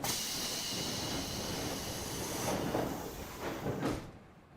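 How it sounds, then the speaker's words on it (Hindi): A train pulls into a platform fitted with safety doors, a loud, steady rushing roar with a few soft sliding swells near the end before the sound cuts off abruptly. "ट्रेन अब आ रही है।"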